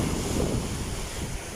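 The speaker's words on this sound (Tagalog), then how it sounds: "Grabe, lalakas po ng hampas ng alon po dito." Strong waves crash continuously against the Manila Bay shore at Baseco, Tondo, with heavy wind buffeting the microphone and a steady low roar throughout.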